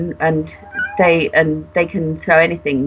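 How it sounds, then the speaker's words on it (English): A cat meows in the background, with several short cries rising between and under continuous nearby talk. "That's a cat."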